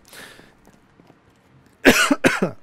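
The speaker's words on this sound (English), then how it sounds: "Had to cough again." Two sharp, loud coughs close to the microphone follow a stretch of quiet, faint shuffling.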